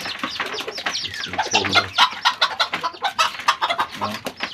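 Bantam chickens cluck and chatter continuously at close range, busy overlapping calls with short squawks, no talking.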